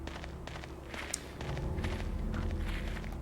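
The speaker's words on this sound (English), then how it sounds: "Oh, I hear someone else's footsteps." Footsteps crunch steadily through a foggy outdoor area in Silent Hill 2, soft and fairly close over a low ambient drone, with no talking.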